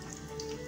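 Eggplant slices breaded milanesa-style frying in hot oil, a steady close crackle and spatter with dense popping droplets throughout, no voices.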